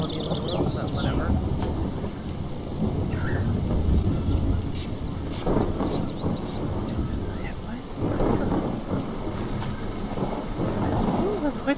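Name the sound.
thunderstorm in video game Farm Manager 2018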